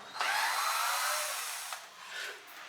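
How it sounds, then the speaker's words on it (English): Power tool whirs as the last bolt comes out of the oil pan on a 1968 GTO engine, a single sustained burst of about two seconds, then a short second spin; fairly close, with no talk. "removing the last bolt from the pan"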